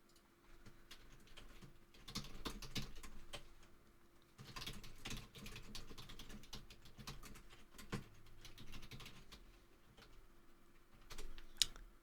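Computer keyboard typing in bursts of quick, uneven keystrokes with short pauses between runs, fairly close and moderately loud, with no talking.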